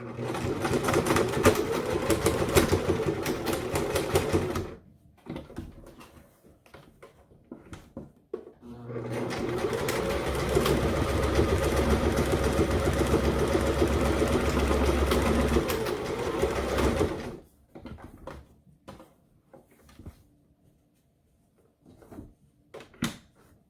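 Sewing machine stitching ribbon ties onto a washable fabric face mask, running in two sustained bursts of even mechanical whirring separated by short pauses and light handling clatter, close and clear.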